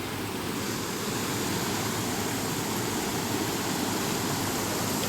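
A powerful, unbroken roar of rushing water pours down nearby, loud and steady throughout with no pauses.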